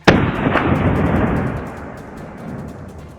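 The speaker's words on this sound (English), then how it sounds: "a single gunshot shatters the silence, and the beast collapses instantly" A single loud, close gunshot from a hunter firing at a wild boar cracks sharply at the start, followed by a brief second burst and a long rumbling echo that fades over about three seconds.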